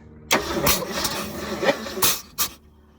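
An old 1971 Ford engine cranks and sputters after sitting unused for 27 years, with several rough bursts of cranking and catching over a few seconds before stopping.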